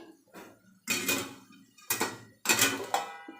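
A metal lid set down on a pan of Malvani-style capsicum curry gives a few clattering knocks and scrapes, loud and close, spaced apart with quiet gaps between them.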